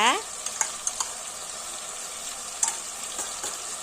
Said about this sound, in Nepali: अब मजाले चलाउनुपर्छ।